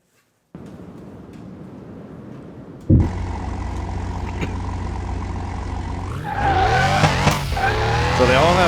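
Porsche Carrera 4S on racing slicks in Car Mechanic Simulator 2021, taken onto a top speed track: a low idle, then a sharp start and steady engine drone that climbs into a rising, revving whine near the end.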